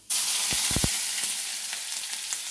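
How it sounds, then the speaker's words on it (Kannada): Chopped onion and green chilies drop into hot oil with popping mustard seeds. A sudden loud sizzle bursts up with a few quick clatters, then settles into a steady, close frying hiss. "ಸಾಸಿವೆ ಸಿಕ್ಕಿದ ತಕ್ಷಣ ಈರುಳ್ಳಿ, ಮೆಣಸಿನ್ಕಾಯಿ ಪಲ್ಯಕ್ಕೆ ಹಾಕ್ತಾಯಿದ್ದೀನಿ"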